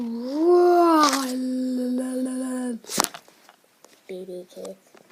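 A person's voice imitates baby cats with a drawn-out, wavering meow. It is followed by a sharp burst and a few short, higher mewing squeaks, close and fairly quiet.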